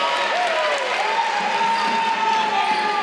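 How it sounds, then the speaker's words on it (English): Home crowd at a men's college basketball game clapping for a player stepping to the free-throw line, a steady wash of applause and murmur filling the gym, with a sustained tone running underneath. "the house is clapping for Nathan"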